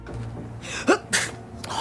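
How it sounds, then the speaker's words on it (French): A short, forced sneeze from an actor in the film Carnosaur bursts out once, then a second sharper burst follows; both are close and loud against a quiet room. "Il est même pas foutu de faire semblant d'éternuer comme il faut."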